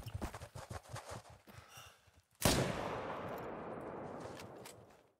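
A loud, sharp rifle shot is fired at a water buffalo in the hunting game theHunter: Call of the Wild. Its blast rolls out into a long echoing tail across open terrain, following a stretch of quieter footsteps and rustling.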